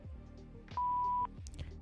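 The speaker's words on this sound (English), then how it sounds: "please leave your name and phone number after the beep" A single clean voicemail beep, about half a second long, sounds over low background hum on a cold-calling phone line.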